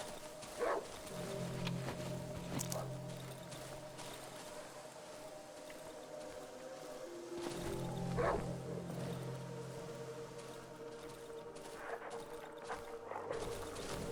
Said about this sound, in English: A lot of dogs.